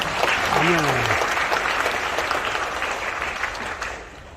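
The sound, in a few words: church congregation applauding to glorify God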